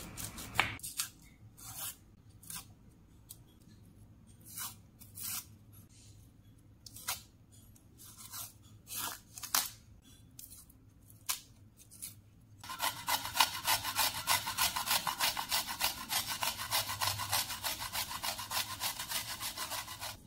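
Onions rubbed against a hand grater in a home kitchen, giving scattered rasping strokes that build into a steady, continuous scraping run, close and alone with no talking.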